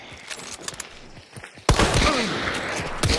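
Gunshots fired through a wall in the video game Hunt: Showdown. A few quiet clicks and taps give way to a sudden loud burst of fire that stays dense and heavy for the rest of the clip.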